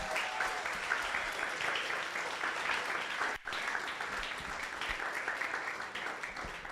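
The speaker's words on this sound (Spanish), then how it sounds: "Vamos a darle un aplauso," Church congregation applauding for graduates, a broad, even clapping from many people that continues throughout, with a brief break midway before it resumes at the same level.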